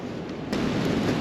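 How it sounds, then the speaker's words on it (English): Strong wind gusts buffet an outdoor campsite where mess kit cooking is under way, a brief steady broadband rush that thickens midway, with no voices. "It's really windy."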